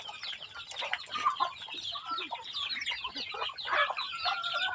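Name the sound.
chickens clucking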